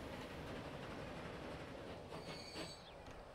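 Train rolling along a single-track rail line in Transport Fever 2, a steady close rumble of wheels with a faint high squeal building near the end, no talking.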